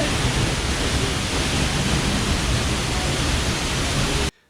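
Casaroro Falls near Dumaguete in the Philippines, a loud, steady roar of falling water like dense hiss, continuous and close before cutting off abruptly at the end.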